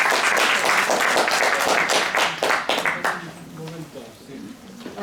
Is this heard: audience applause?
yes